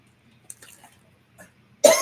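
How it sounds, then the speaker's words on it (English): A single sharp cough near the end, loud and close, after a few faint scattered noises in near silence. "I'm coughing."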